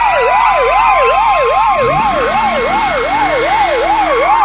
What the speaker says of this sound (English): This is an American police car.